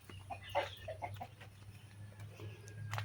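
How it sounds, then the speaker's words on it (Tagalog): Chickens cluck faintly in short, scattered calls outdoors near a farm hut, with a steady low hum and rustling underneath. "Ayun, may manok."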